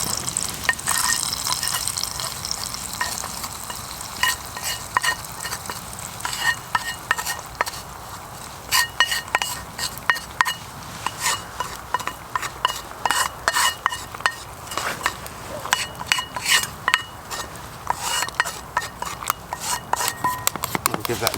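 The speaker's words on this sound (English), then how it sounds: "Give that a good stir around." Garlic frying in a pan over a campfire outdoors in winter, stirred with a utensil that clinks and scrapes against the metal over a steady sizzle, with people chatting intermittently.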